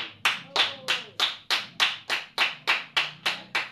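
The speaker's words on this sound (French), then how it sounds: "Acclamons tous la parole." A church congregation claps in unison, about a dozen strong, evenly spaced beats in a steady rhythm, loud and close, with no talking.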